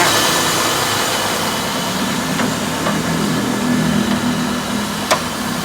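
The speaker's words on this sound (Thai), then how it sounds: "เดี๋ยวพี่เบนซ์ขับออกกันหน่อย" A 2003 Land Rover Freelander V6 four-wheel-drive runs its engine as the car pulls away, a constant loud low rumble with a few light clicks and knocks over it, near and with no voices.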